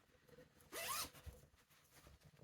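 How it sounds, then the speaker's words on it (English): A single quick zip as a clothing zipper is pulled open, one loud rasping burst lasting about a quarter second, close by and on its own against quiet room tone. "Not all the zips are unzipped"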